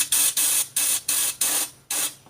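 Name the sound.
compressed-air spraying of rust-proofing liquid film under truck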